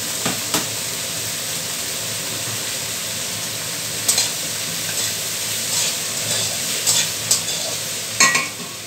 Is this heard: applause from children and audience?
no